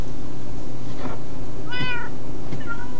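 Cats meowing in the video game Minecraft, two or three clear distinct meows spaced about a second apart over a steady loud game background drone.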